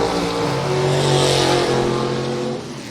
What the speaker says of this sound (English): is what a high-winding Chevrolet small block sounds like